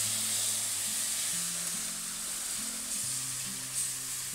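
Milk being stirred into a flour roux in a pan for a cheese white sauce, with a steady close sizzle and faint scraping of the spoon throughout, alone and without talk.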